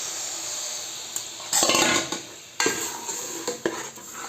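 Garam masala frying in a pan, a soft sizzle under repeated metal spoon scrapes and clanks against the pan.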